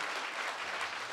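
Congregation applauding at a church service, a dense burst of clapping from many hands, steady and close throughout.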